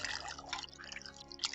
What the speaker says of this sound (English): Just adding water to our chicken soup homemade.